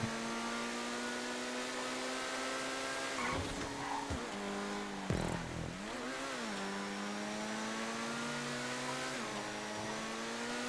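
Ferrari 458 Italia GTB racing in GTA 5, its engine note loud and continuous with rising and falling revs, a few brief dips and bumps as it shifts or brushes scenery, and no talk over it.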